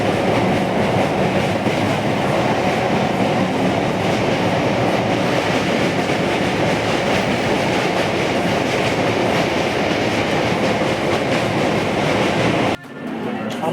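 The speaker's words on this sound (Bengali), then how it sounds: "আমরা এখন ব্যান্ডেলে চলে এসেছি, নৈহাটি লোকাল ধরে নিয়েছি।" A Naihati local train runs near Bandel with a loud, continuous clickety-clack and rattling rumble from the carriage, steady throughout before cutting off abruptly near the end.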